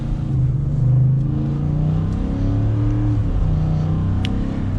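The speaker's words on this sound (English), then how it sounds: "that sounds like a truck" A 2022 Ford F-150 pickup engine runs steadily nearby, a deep, even rumble with slight rises in pitch as it is revved, loud and with no talk over it.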